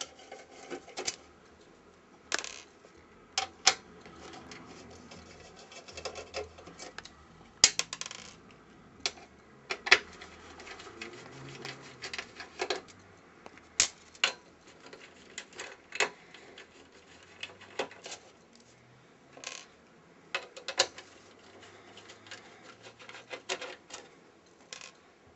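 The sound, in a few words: unscrewing screws holding the Xbox 360 heatsink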